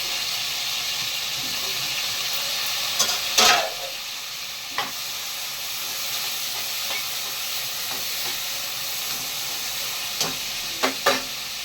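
Tomatoes and ginger garlic paste fry in a pan for a village-style chicken curry, giving a continuous soft hiss with a few sharp clinks and scrapes of stirring scattered through.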